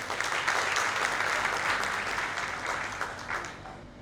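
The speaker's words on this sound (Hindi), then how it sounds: "उसके लिए एक बार जोरदार ताली।" Sustained audience applause fills a medical seminar hall in Surat, a dense, steady wash of many hands clapping that thins slightly toward the end.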